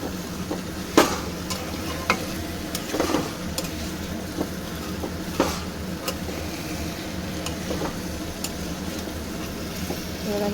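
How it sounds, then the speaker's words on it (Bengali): Jackfruit being stirred and fried with spice paste in a pan, giving a steady low sizzle with scraping stir strokes at irregular intervals, near and moderately quiet, no voices. "এবার ইঁচড়টা দিয়ে আমি খুব ভালো করে কষাতে থাকবো, পুরো মশলাটার সঙ্গে একদম ইঁচড়টা যাতে পুরো মিশে যায়"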